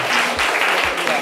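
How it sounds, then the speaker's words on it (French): Loud, close audience applause in a live French television studio show, a dense, steady burst of clapping filling the whole short moment. "on peut l'applaudir très très fort, on peut l'encourager"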